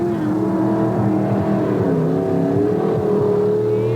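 Monster truck engine revving hard during a 1988 TNT race in Atlanta, a continuous loud roar with wavering pitch as the throttle rises and falls, heard up close with no pause.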